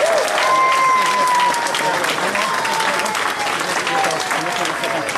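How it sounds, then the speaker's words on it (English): An audience at a homecoming celebration in the parish of Castletownshend claps loudly for John Joe, with steady, dense applause that lasts the whole stretch and stays close. "a big round of applause"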